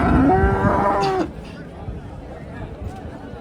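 A cow at the Sunday cattle market in Chintamani gives one loud, close moo lasting just over a second, followed by the low murmur of the market crowd.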